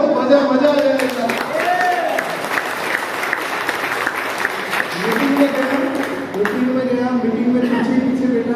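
Seminar audience in Balrampur clapping steadily throughout, a dense continuous patter of applause with a speaker's voice carrying over it at the start and again near the end.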